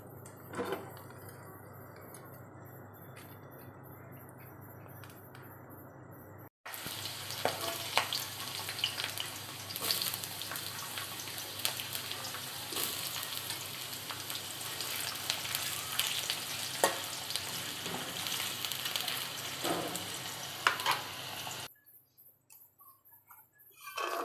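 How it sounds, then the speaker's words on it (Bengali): Potato, garlic and onion frying in a pan for a gourd-leaf mash, a quieter background hiss that jumps to a dense, loud crackling sizzle with occasional stirring clicks, then drops away near the end. "আমি আলু নিছি, ওর সাথেই দেবো, এটাকে একটু ভেজে নেব।"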